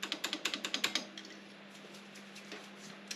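Keys of a Robotron typewriter struck in a quick run of about nine sharp, close clacks, then a quiet hum with faint mechanical ticks.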